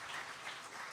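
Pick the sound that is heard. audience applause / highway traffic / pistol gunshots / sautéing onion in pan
audience applause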